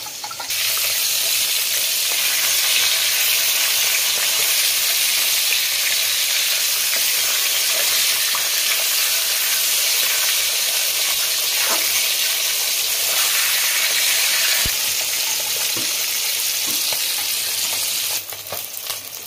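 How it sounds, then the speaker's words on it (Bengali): Fish pieces fry in hot oil with a loud, steady sizzle that continues without a break and cuts off at the end. "আমার মাছ ভাজাগুলো হয়ে গেছে, আমি সব তুলে নিচ্ছি এক এক করে।"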